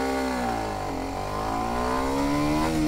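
Kawasaki Ninja 125 motorcycle accelerating hard in a 0-60 mph run, its engine revving up through rising pitch, dipping briefly at a gear change, then climbing again, loud and close, with no talking.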